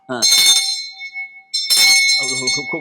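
A bright metallic hand bell kept in a house for calling someone inside rings twice close by, each strike leaving a long shimmering tone, with talking heard around the rings.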